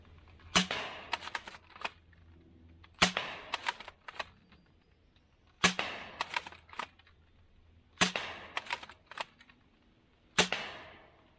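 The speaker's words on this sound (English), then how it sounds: "So we're going to go ahead and run a mag of the AF Pro darts through here" A T238 SCAR-style foam blaster fires AF Pro darts in five sharp, close snapping shots spaced a few seconds apart, each followed by faint mechanical clicks of the priming action.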